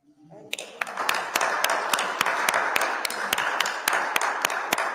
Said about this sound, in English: when he claps his hands, they're like gunshots to the ears